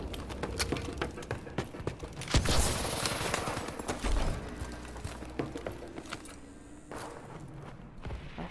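Gunfire in the Call of Duty: Advanced Warfare video game, rapid bursts of shots and sharp cracks with a louder blast in the middle, continuous and close over a busy background.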